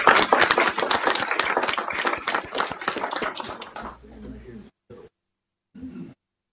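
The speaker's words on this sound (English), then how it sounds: "Let's give them a round of applause." Applause at a city council meeting in Columbia, Tennessee: a loud, close round of clapping that thins out and stops after about four seconds, followed by a few faint sounds.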